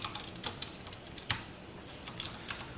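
Someone types on a computer keyboard while writing C code, a few sharp, scattered key clicks coming close and quiet over a hushed room.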